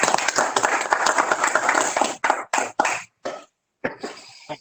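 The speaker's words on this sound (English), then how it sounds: "A spontaneous round of applause." Scattered handclapping at an award ceremony, dense at first and then thinning into a few separate bursts with short silences between them, fairly loud and close.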